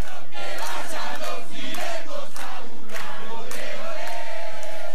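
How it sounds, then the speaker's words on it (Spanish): A large protest crowd at the Congress's Social Security Commission chants and shouts insults in rhythmic waves, voices rising together in loud, heated bursts. "Con cánticos, sumados a los insultos, esto era la Comisión de Previsión y Seguridad Social."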